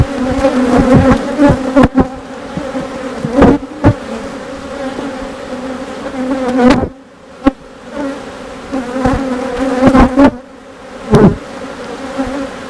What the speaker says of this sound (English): You can see that bee with some nice pollen right there.